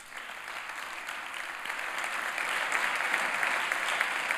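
An audience at a Catalan local journalism awards ceremony applauds steadily, a dense wash of many hands clapping that swells slightly and continues without any talking.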